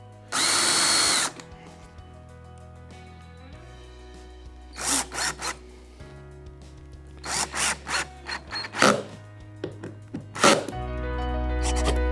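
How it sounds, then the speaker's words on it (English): A power drill with a self-centering bit makes pilot holes for Blum cabinet door hinges, whirring in several short bursts, with one long loud run at the start followed by quick repeated pulses, close by. "Using my self-centered drill bit,"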